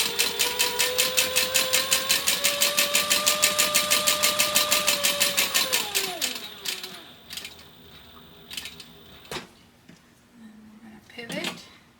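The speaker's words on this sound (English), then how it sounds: "so now we're going to top stitch." A sewing machine top-stitches a purse with a steady rapid mechanical chatter that winds down after about six seconds, followed by scattered clicks and handling noises, loud and close.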